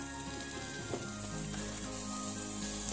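Deer meat fries in a pan with a steady, close sizzling hiss, a few soft pops and faint scrapes on top, no voices present.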